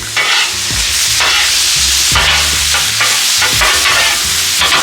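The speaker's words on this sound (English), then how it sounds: "You can see my enchilada sauce is starting to simmer, and my meat is done" Ground elk meat fries on a Blackstone griddle next to simmering enchilada sauce, giving a loud, close, continuous sizzle with scraping strokes of a spatula recurring about every second.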